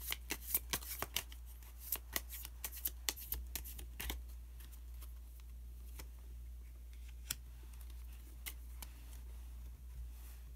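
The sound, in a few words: shuffling and drawing tarot cards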